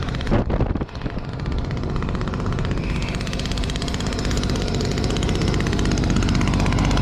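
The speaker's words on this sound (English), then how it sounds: "I love this leaf blower." A leaf blower engine on a farm at harvest time drones loudly and steadily up close, after a brief knock at the start, with no talk over it.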